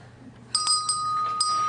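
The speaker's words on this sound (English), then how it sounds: "Pull the bell rope, Twilly" A small bell on a pulled rope rings in a few bright, clear strikes that leave a sustained ringing tone, fairly close and alone after a quiet moment in a stage drama.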